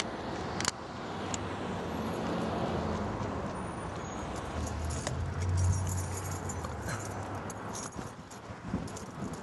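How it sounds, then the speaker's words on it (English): Keys hanging on a cord around someone's neck jangle outside Reno's National Bowling Stadium, a light metallic clinking under steady street and traffic noise, with a brief sharper rattle near the start. "I have keys hanging around my neck"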